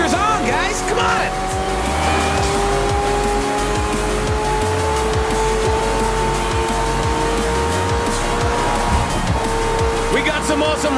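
Racing cars and trucks in Forza Horizon 4 roar past with revving engines and tire squeal, loud and continuous under an excited voice talking.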